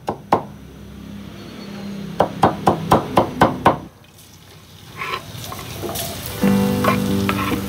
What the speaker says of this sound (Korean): 마늘기름 볶아 매콤한 맛과 향을 내고 연한 살코기와 각종 야채를 넣어 달달 볶아줍니다